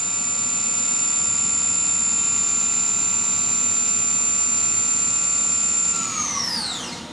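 A Bridgeport VMC 800/30 XP2 CNC vertical machining center runs its spindle with a steady, loud high-pitched whine. Near the end the pitch glides downward as the spindle winds down.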